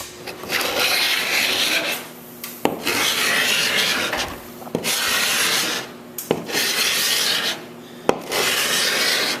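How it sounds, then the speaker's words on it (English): A scraper strips old varnish and stain from the wooden hull of a 1937 20-foot Lyman boat, with close, loud rasping strokes in a steady rhythm of about five long scrapes separated by brief pauses. "But I will scrape some of this now."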